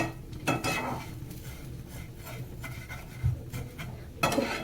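Vermicelli fried in oil and stirred in a pan, with quiet crackling, a few louder spoon scrapes and clinks against the metal, close and fairly soft, no voices.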